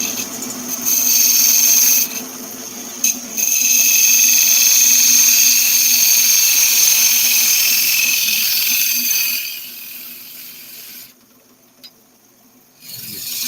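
Wood spinning on a lathe while woodturning, a loud, steady whirring and scraping hiss as the tool cuts, broken by short pauses and a quieter stretch near the end.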